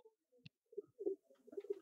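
A breeder's pigeons coo softly in short, low, throaty bursts, with a brief higher chirp early on and the cooing swelling toward the end, all close and quiet.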